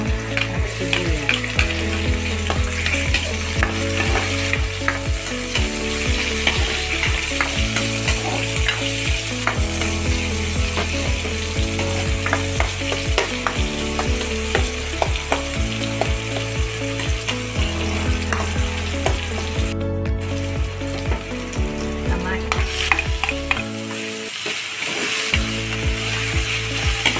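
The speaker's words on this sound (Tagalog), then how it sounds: "Igisa na natin. Bawang at sibuyas." Garlic and onion sauté in a pan as the base for squid adobo, giving a steady sizzle with stirring and scraping under continuous background music.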